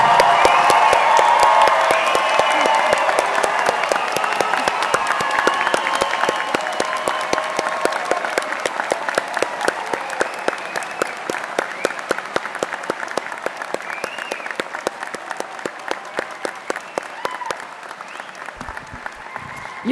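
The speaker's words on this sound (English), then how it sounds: "Let's give them a round of applause." Audience applause at a medical white coat ceremony in Glendale, Arizona: a large crowd clapping steadily and loudly with occasional cheers, gradually thinning toward the end.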